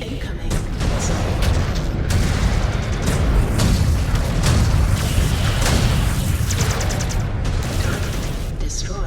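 Dense barrage of missile impacts and explosions in the MechWarrior video game, continuous booming bursts and rumbling blasts layered over one another, loud and close throughout with no pause.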